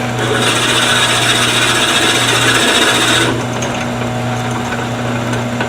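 Steady grinding rasp of a drill bit boring into wood for a vase on a spinning lathe, continuous and close, with the pitch easing partway through.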